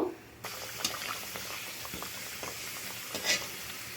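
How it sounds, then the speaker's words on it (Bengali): Potato-stuffed puris deep frying in hot oil give a steady close sizzle with small bubbling crackles, broken by a few brief stirring or ladle sounds, with no talking. "আমি এইভাবে সব পুরিগুলো ভেজে নেব"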